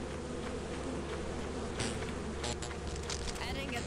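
Buzzing bees in a video game form a steady insect drone throughout, close and continuous, with faint muffled voices and game sounds mixed underneath.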